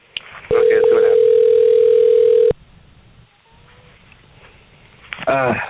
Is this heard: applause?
no